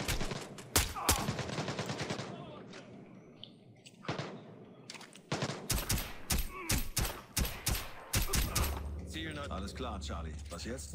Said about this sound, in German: Das war die Pistole, ne?